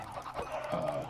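Chickens in the Minecraft video game give a short cluck or two, brief and fairly close, with no talking over them.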